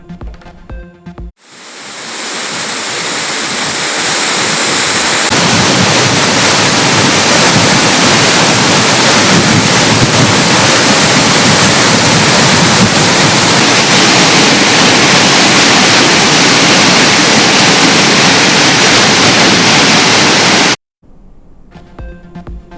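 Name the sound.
waterfall at Courtallam falls swollen after overnight rain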